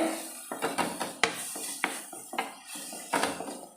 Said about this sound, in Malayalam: ഇനി ഇതെല്ലാം കൂടെ നന്നായിട്ടൊന്ന് മിക്സ് ചെയ്യാവേ